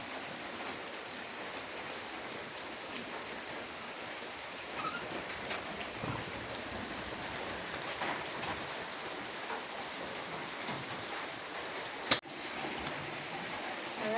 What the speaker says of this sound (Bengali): বৃষ্টি পড়তেছে টিপ টিপ করে